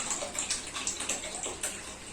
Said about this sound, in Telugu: వాటర్ వేయాలి, దీనికి వాటర్ పడతాయి.